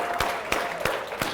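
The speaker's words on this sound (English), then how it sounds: "Give yourselves a round of applause" Audience applause for a personal development speaker at a company training event: a handful of sharp, evenly spaced claps at moderate loudness, with no talking over them.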